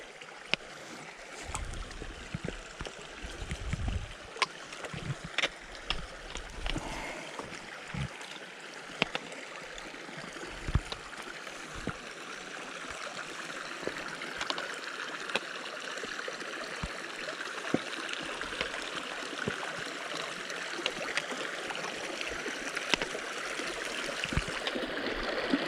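A river at Dolly Sods flows near a cluster of campsites, a soft continuous rush of water with occasional nearby knocks and footstep-like thuds, faint and steady with no talk.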